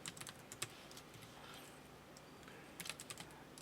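Keys click fast on a computer keyboard as data is typed into an Excel spreadsheet, in quick bursts separated by short pauses, soft and close.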